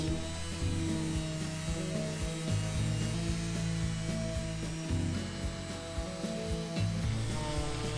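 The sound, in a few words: sanding monkey pod wood with 320-grit sandpaper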